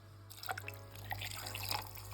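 Homemade kvass poured into a glass, a steady close trickle of liquid with small bubbly splashes and droplets over a constant low hum, no talking.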